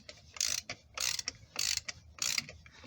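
A ratchet wrench snugging the front differential fill plug on a 1997 Ford Explorer, four bursts of rapid clicking in an even back-and-forth rhythm, close and fairly quiet.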